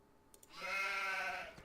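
A single drawn-out sheep bleat sounds at moderate distance in the video game Farming Simulator 17, on a Pacific Northwest farm map. It rises from a quiet background, holds for about a second and fades, with no talk over it.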